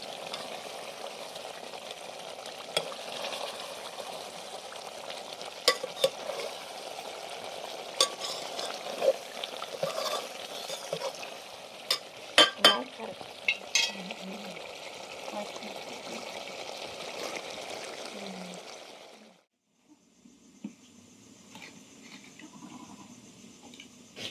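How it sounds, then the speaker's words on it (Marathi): Stuffed bitter gourds cooking in a pan are gently stirred, giving a steady sizzle and frying hiss scattered with soft scraping clicks, close and continuous before dropping to a quiet simmer near the end. "आता शिजत शिजत आलं की हलक्या हाताने हलवून घेते"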